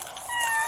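A single short cat meow, close and fairly clear, rising in pitch over less than a second.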